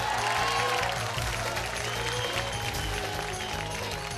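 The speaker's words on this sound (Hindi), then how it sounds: "जोरदार तालियों से स्वागत कीजिए" Studio audience on a Hindi cooking show applauding to welcome a guest chef, steady moderate clapping throughout with a low musical bed beneath it.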